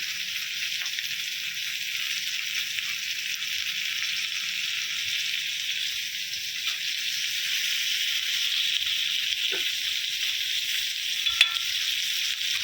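Tamb and kokar fish pieces fry in a pan with a steady, continuous sizzle that holds at an even level, with a few faint clicks and no talking.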